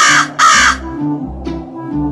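A crow in an animated Telugu fable caws loudly and close, two harsh calls near the start followed by softer, rougher caws, with no speech alongside.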